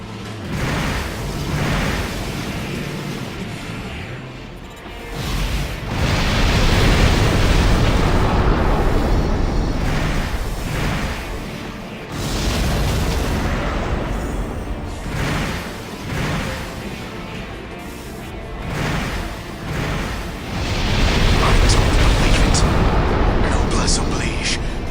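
Destruction of the Noblesse Oblige in the Armored Core: for Answer video game, with long rolling explosions and roaring booms in several loud waves, a voice speaking over the blasts.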